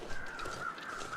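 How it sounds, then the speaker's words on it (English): Crows caw overhead in the wintry wilderness of The Long Dark: a brief, faint, distant rasping call against quiet ambient wind. "I think I see the crows flying overhead"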